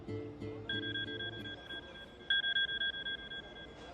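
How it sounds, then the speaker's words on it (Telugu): A mobile phone rings with an incoming call, a steady electronic two-tone trill in repeated pulses that starts and stops, fairly faint against low room noise. "ఇదిగో మెసేజ్ వచ్చిన నంబర్ నుంచి కాల్ వస్తోంది"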